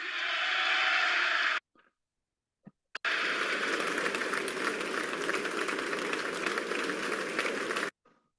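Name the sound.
crowd cheering and applauding a speech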